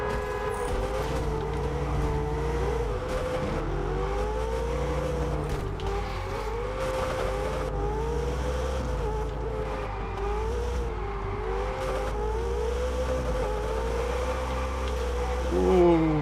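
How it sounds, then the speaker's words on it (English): Race car exhausts roar continuously in the driving game Test Drive Unlimited Solar Crown, several engines droning and shifting pitch together during community racing, with a brief louder burst near the end and talk faintly underneath. "all of these equal exhaust noises aren't ideal because I can't hear my own exhaust over everyone else's"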